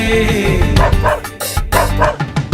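A dog barks repeatedly in short bursts during a staged Noah's Ark musical skit, loud and mixed over sung music and accompaniment.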